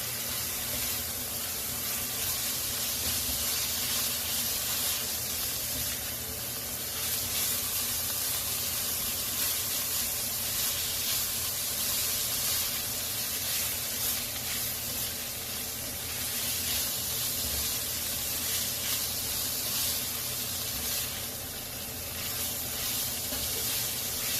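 Topping for rolled rice noodles stir-fries with oyster sauce and sugar in a hot pan, making a loud, dense sizzle that holds steady throughout, with faint stirring scrapes mixed in.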